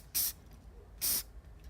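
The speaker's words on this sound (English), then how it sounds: "And I'll take the activator spray," An activator spray can fires two short, sharp hissing bursts about a second apart in a wood shop, loud and close, with quiet between them.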